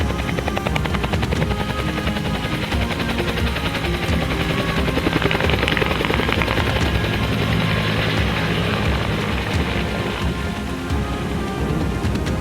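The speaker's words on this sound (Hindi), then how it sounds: "हेलीकॉप्टर गंगा के ऊपर बीचों बीच हवा में एक ही जगह पर लहरा रहा था।" A helicopter hovering over the Ganges river, a loud, dense, continuous rotor roar with steady choppy pulsing that fills the whole stretch without pause.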